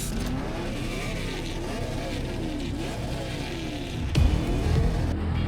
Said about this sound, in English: I hear him miss a gear, and the car just starts to rev out